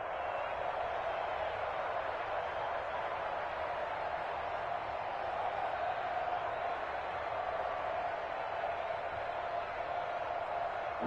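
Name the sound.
football stadium crowd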